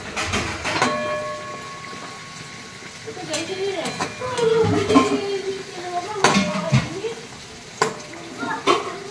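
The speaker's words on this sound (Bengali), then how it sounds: "এখানে দেখো ভেজ ডাল বানাবো, তার জন্য আর কি সবজিগুলো ফার্স্টে ভেজে নিচ্ছি" Vegetables fry in a pot for veg dal, a sizzling bed of sound punctuated by clanking stirs against the metal, with muffled voices drifting in the background.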